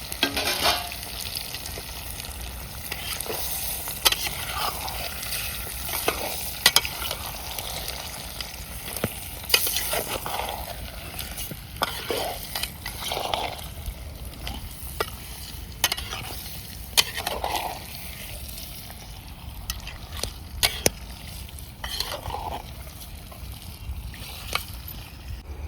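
Country-style gavran chicken frying in plain oil in an outdoor setting sizzles steadily while a spoon scrapes and stirs with repeated clinks and rustles, loud and continuous with no voices.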